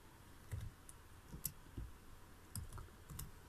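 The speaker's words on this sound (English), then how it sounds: "Type natin yung Snappa." Keys on a computer keyboard are typed in short, quiet clusters of clicks, several scattered taps recorded close up at low volume with no talking.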